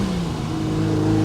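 A 1969 Ferrari 365 GTC engine revving up through a gear change on the road, a brief loud mechanical growl heard close from inside the car, its tone stepping as the gear shifts.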